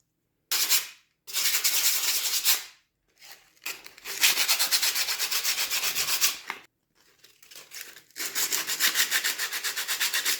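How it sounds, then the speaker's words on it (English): Sandpaper rubbed by hand over varnished wood on a wooden gaff cutter's rigging block: loud, close, rasping back-and-forth strokes in several long bursts separated by brief pauses. "I would put the sandpaper on a block to make sure it's dead flat"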